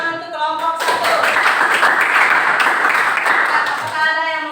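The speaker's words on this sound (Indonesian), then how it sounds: "Berikan tepuk tangan untuk kelompok 1" Classroom applause for a student group, a steady burst of many hands clapping for several seconds, starting after a brief voice and fading with talk resuming at the end.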